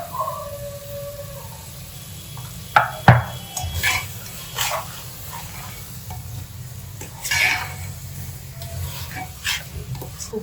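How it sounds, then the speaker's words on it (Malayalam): Mutton and masala are stirred in a pot over a soft sizzle, with irregular scraping strokes and a few sharp clinks of the spoon against the metal, heard up close. "മട്ടൻ ഇട്ട ശേഷം മസാലയുമായിട്ട് നല്ലവണ്ണം ഇളക്കുക"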